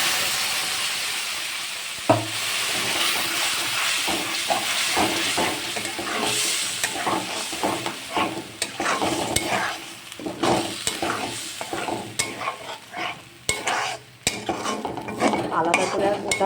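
Boiled spice paste for katla fish curry hitting hot oil tempered with cumin, a dense, close sizzle with frequent stirring scrapes and clatters that grow choppier over time.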